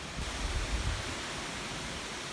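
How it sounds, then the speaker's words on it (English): Strong wind gusting across a mountain campsite on the Appalachian Trail, a steady broadband roar with heavier low buffeting in the first second, sounding close to the microphone. "Super windy."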